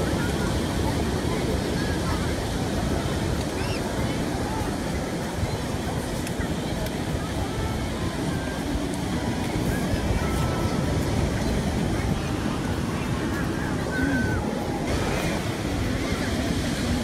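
Ocean surf rolls steadily onto a sunny beach, a continuous broadband wash of breaking waves with some wind noise on the microphone, moderately loud throughout.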